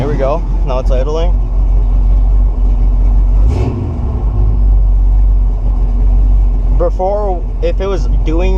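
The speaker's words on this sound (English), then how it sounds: "Now it's idling." A 1969 Buick Special Deluxe engine idles with a deep, steady low rumble close up. A voice talks briefly over it at the start and near the end.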